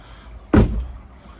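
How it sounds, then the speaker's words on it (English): A sliding door on a 2012 Meridian 391 boat rolls open in one short, close rumbling swoosh that fades quickly into a quiet cabin. "Nice sliding door."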